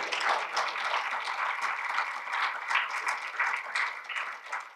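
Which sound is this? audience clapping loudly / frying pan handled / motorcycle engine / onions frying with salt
audience clapping loudly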